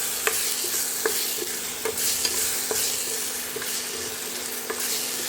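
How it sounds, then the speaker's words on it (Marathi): Masala paste fries in oil in a steel kadhai on an induction cooktop turned low, giving a close, continuous hiss of sizzling broken by occasional soft knocks of a stirring spoon. "आता हो ह्याला छान भाजून घेतो एकदा."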